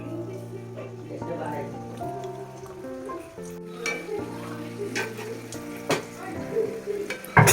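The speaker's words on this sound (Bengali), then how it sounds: "এরকমভাবে সুন্দর করে ভেজে নেবো এটাকে একটু লালচে করে ভাজবো" Dough pieces fry in hot oil, making a bubbly sizzle with occasional sharp crackles that grow busier toward the end, while someone talks over it throughout.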